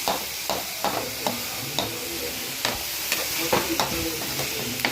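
Onions and tomatoes sauté in a pan for a simple broad bean stir-fry, a steady close sizzle broken by regular scraping strokes of a spatula, without speech.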